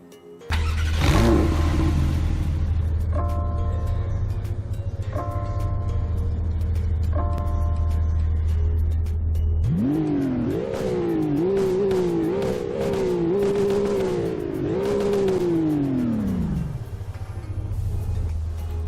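A base model car in Roblox Greenville idles with a low steady hum, gives a few short blips, then revs up through repeated rising surges before settling back to idle.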